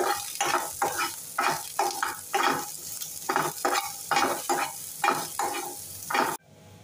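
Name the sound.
onion sautéing in oil in a pan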